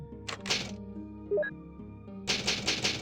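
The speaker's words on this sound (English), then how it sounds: "Oh yeah, give me that typewriter." The Resident Evil typewriter save sound plays in the original game: a few sharp mechanical key clacks and thunks with a short rising chime, set against the game's low ambient music.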